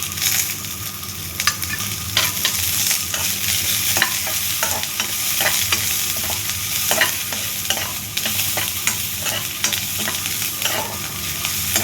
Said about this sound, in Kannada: ಹಸಿ ಸ್ಮೆಲ್ಲು ಹೋಗೋವರೆಗೂ ಬಾಡಿಸ್ಕೊಬೇಕು